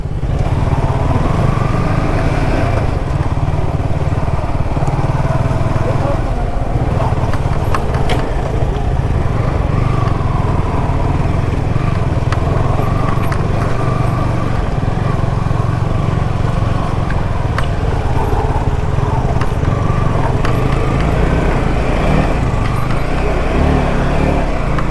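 Sports motorcycles ride off-road in the Andaman Islands, with a loud engine drone that holds steady close by through the whole clip. A few faint rattles come through and no voices are heard.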